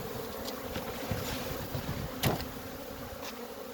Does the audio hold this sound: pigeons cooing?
no